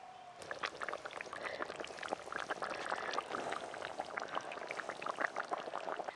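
A village-style curry of live singhi fish with vegetables boils in a pot, giving a steady stream of close, busy bubbling and popping with no voices.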